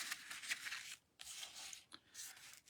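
Scissors slice through paper while a card is trimmed, making crisp, hissing cuts in about three strokes with short pauses between them. The sound is close and fairly quiet.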